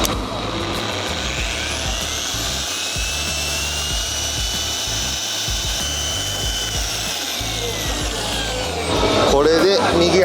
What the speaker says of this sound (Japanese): じゃあ下半分磨いていきます。